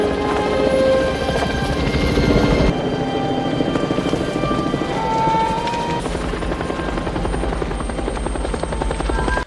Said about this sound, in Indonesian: Untungnya helikopter tim SAR itu pun menyadarinya dan segera menghampiri mereka berdua